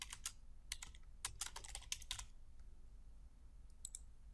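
Fast bursts of clicking computer keystrokes as a holiday name is typed, crisp and close, clustered in the first two seconds with a few final taps near the end, no voices.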